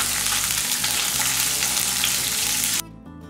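Shallots frying in a pan for a pumpkin tomato chutney give a loud, steady sizzle with faint stirring scrapes, cutting off abruptly near the end.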